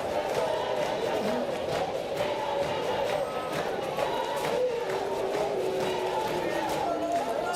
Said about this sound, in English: This Panamanian crowd is into it here at the outset of the 3rd, trying to spur on some energy to a team trailing.